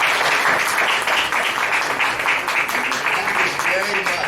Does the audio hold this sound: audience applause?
yes